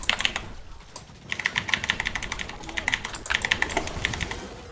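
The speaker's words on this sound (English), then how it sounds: "Goddamn mechanical keyboards." Fast typing on a mechanical keyboard, clattering key presses in dense bursts with a short pause, loud and very close to the mic, with no speech.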